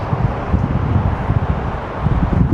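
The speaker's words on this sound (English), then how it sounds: "it's starting to become very, very windy" Strong gusty wind blowing outdoors near bridges in Dallas, a loud continuous rumble buffeting the microphone with rustling, heard alone without talk.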